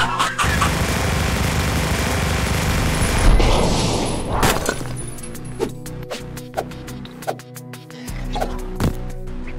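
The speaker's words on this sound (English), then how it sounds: "Heavy machine gun!" Heavy machine gun fire in a Roblox boxing game: a dense, sustained roaring burst for about four seconds, then scattered sharp, loud single shots with short gaps between them.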